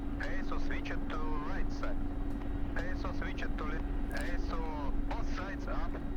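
An Mi-24P attack helicopter in DCS produces a steady, droning rotor and turbine hum that holds throughout, moderately loud, with someone talking over it.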